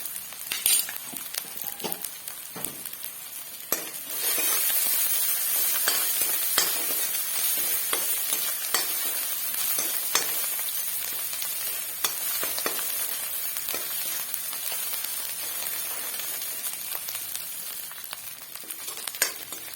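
Onions with turmeric sizzle and fry in a pan for an Assamese fish-and-greens dish, a steady hiss broken by repeated scrapes and clinks of a spoon stirring against metal, close and moderately loud, with no speech.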